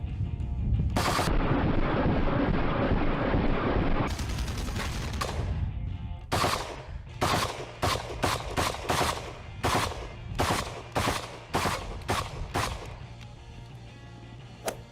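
Assault rifle fire in a shooting video game: loud sustained automatic bursts for the first few seconds, then a steady run of sharp single shots at close range, with no talking.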